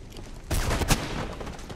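Burst of gunfire in the video game Mirror's Edge, a loud volley breaking in suddenly after a quiet start, with one sharper shot standing out before it trails into a dense, noisy tail.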